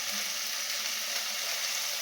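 Spice paste with salt sautéed in a pan, a steady close sizzle and fry with a soft hiss throughout and no pauses.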